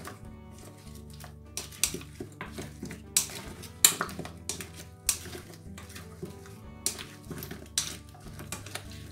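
Boiled potatoes being stirred with mayonnaise in a pot, a spoon clinking and scraping against the sides in irregular bursts, fairly close and alone without talk.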